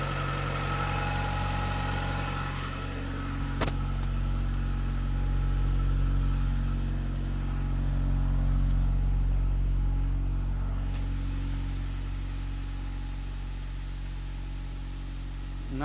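A 1996 Honda Odyssey RA1 engine idles steadily and smoothly at close range, holding a low, even hum with no revving and no voices throughout.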